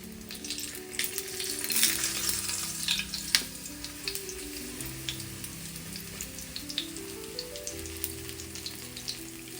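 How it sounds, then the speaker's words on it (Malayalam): Cheese bread pakora frying in hot oil, a continuous bubbling sizzle with scattered pops and crackles, louder early on and then settling, alone with no talking. "ചൂടായ എണ്ണയിൽ ഫ്രൈ ചെയ്യാം."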